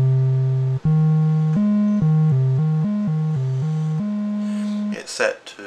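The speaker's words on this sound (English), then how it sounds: "so oscillator 2 normally sounds like this" Behringer Model D synthesizer with oscillator 2 set to a triangle wave, playing a sequence of clear sustained pitched notes that step up and down, alone and loud, ending with a burst of brighter noisy sound.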